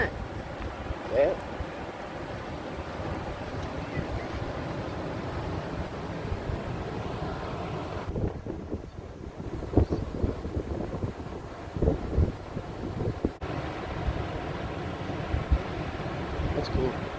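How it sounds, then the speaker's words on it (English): Water rushes out of opened floodgates in a steady, roaring wash, with wind buffeting the microphone and a brief dip partway through before the broad rush returns. "they've opened the floodgates and the water is just teeming out of there"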